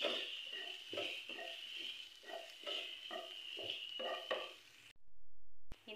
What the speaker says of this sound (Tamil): போட்டு இத அப்படியே கொஞ்சம் வதக்கி விட்டுறலாம்